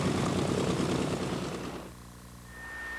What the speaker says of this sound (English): That big 650 horsepower Pratt & Whitney radial engine and that Hamilton Standard propeller really makes some racket.